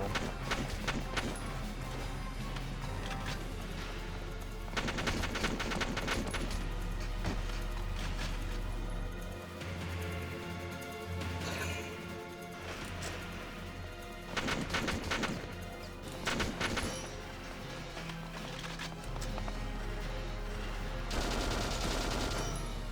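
Repeated gunfire crackles through a crossfire in the tactical video game Valkyria Chronicles, bursts of shots and crashes layered over a steady game music bed with a low hum, continuous and loud throughout.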